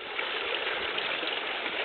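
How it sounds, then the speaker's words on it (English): Steady rushing of water flushing and falling down terraces in an aquaponics system, a continuous band-limited gush with no pauses, close and moderately loud. "So our water is coming, falling down."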